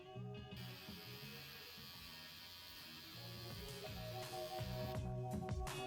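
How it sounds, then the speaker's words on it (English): Electric hair clippers fitted with a number 1 guard trim a moustache, producing a steady, close, loud motor buzz that shifts slightly in tone as the blade moves against the hair. "I'm going to trim the moustache, bringing down my upper lip, allowing the clippers to get in them tight areas."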